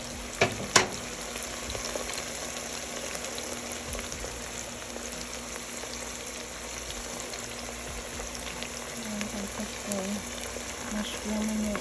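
Onions and mushrooms fry in a pan, a faint, steady crackling sizzle throughout with a couple of sharp knocks near the start.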